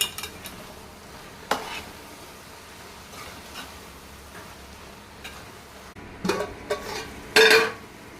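Chili powder and salt are stirred into a spring onion egg curry in a pan, with soft scraping and stirring strokes, faint sizzling and a few sharper clinks of the spoon against the pot near the end.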